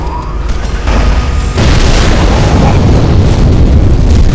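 A sticky grenade goes off in a video game, a loud, rumbling blast that swells around one and a half seconds and stays as a dense, heavy roar through to the end.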